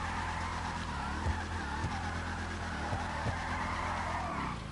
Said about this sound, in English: It's not a bad drifting car either.